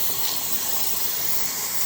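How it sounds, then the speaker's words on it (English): Steady, loud steam hiss pours from a T-Fal 22 quart pressure canner processing potatoes, a continuous broadband rush with no pauses or voices. "Yeah, you can see that steam, and you hear the noise."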